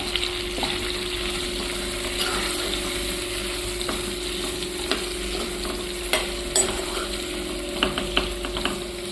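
Brinjal curry frying in hot oil on a gas stove, a loud, continuous close sizzle with repeated scraping and clinking as a utensil stirs the pan, building toward the end, with no voices.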